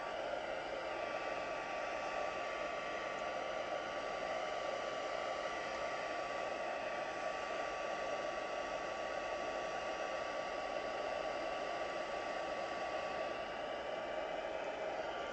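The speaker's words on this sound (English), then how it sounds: "I'm actually going to use the heat tool to move it around." A heat tool blowing hot air over pools of water and paint on an art piece, a steady, even hiss that stays constant and fairly quiet from start to finish with no talk.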